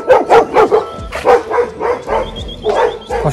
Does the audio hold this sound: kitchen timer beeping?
no